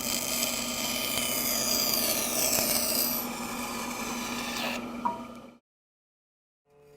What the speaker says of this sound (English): I'm going to cut that angle and take the excess off the end here.